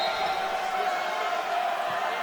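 A crowd at a women's college volleyball match between Lynchburg and Bridgewater rouses and cheers for Lynchburg in an indoor gym, a steady roar of voices.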